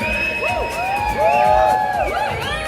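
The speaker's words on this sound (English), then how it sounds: "give a round of applause to our Reves One" Live crowd at a painting event cheering and whooping, with loud shouts and high calls rising together over a steady background roar.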